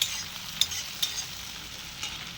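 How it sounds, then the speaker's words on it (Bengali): Chopped onions fry gently in a pan for a matar paneer, a steady close sizzle with a few soft stirring scrapes, no voices. "পেঁয়াজ কিন্তু খুব বেশি ভাজবো না, একটুখানি নরম করবো"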